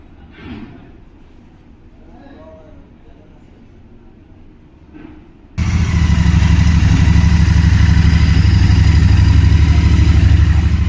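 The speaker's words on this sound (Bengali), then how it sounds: "স্টার্ট করে বাইকের সাউন্ডটা শোনাচ্ছি আপনাদের।" A Royal Enfield Shotgun 650 motorcycle starts abruptly after a quiet stretch with faint talk, then settles into a loud, steady, close idle with a deep throbbing engine note.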